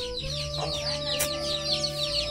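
A hen clucks repeatedly up close after laying an egg in a Malvani home kitchen, with steady background hum and no talk.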